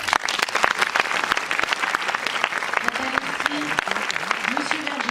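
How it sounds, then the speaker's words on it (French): A crowd at a Spanish film festival in Marseille applauds the jury, dense steady clapping filling the room, with a voice murmuring faintly underneath toward the end. "Anne-Sophie Sabatier, Charlotte Sabatier, on peut les applaudir."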